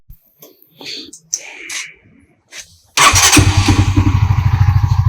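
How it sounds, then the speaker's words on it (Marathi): A motorcycle engine kicks over after a few quiet scrapes and knocks, then idles loudly close by with a steady, rapid thumping pulse. "हो रे एकदम स्मूथ झाला इंजिन"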